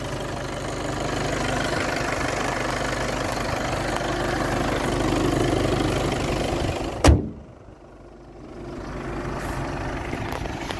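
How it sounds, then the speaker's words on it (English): A 2017 Skoda Superb 2.0 TDI diesel engine idles with a steady low rumble, then a sharp thud like a door or hood shutting cuts in and the rumble quiets briefly. "So that's the 2-litre TDI 148 brake horsepower engine"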